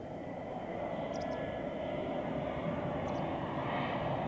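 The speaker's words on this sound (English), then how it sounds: "here we have the first A350 landing of the day on runway 14, Edelweiss from Punta Cana" An Edelweiss Airbus A350 lands on runway 14 at Zurich Airport, producing a steady, broad, moderately distant engine roar that swells gently through the clip, with no speech.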